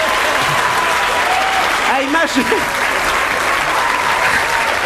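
Studio audience applause for a Quebec television comedy show, loud and continuous throughout, with a voice speaking briefly over it near the middle.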